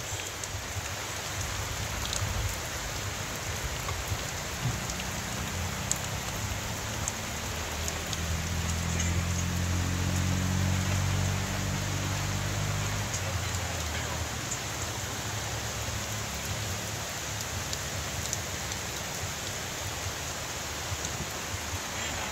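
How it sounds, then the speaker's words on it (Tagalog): Steady rain pours down continuously, a dense wash of drops hitting surfaces, with a low rumble briefly swelling in the middle. "May ulan na po."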